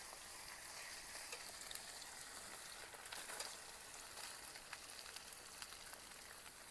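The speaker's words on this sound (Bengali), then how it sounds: "পেঁয়াজ, আদা, রসুন একদম লালচে লালচে কালার করে ভেজে নেব" Chopped onion, ginger and garlic frying in hot oil, a soft, steady crackling sizzle with faint popping, heard alone and fairly quiet throughout.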